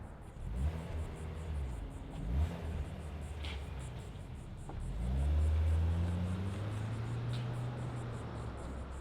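A 2025 Kia Soul EX starting up, its engine a faint, low rumble that swells briefly mid-clip before settling into a soft, steady idle under background hiss.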